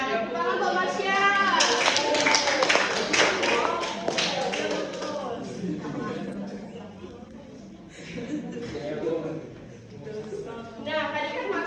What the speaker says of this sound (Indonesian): Tepuk tangan buat Masya